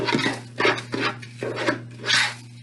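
A spoon scrapes and clinks in a bowl, mixing grated parmesan with smoked paprika into a topping for oven-baked mac and cheese, a short run of close rasping strokes.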